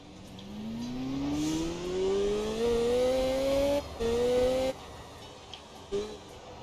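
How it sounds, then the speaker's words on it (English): A bin lorry in the driving game Motor Town passes with a rising engine whine that climbs steadily in pitch, loud and continuous, then cuts off and falls to a quieter rumble with a few brief knocks. "That is a bin lorry, a natural enemy of a motorbike."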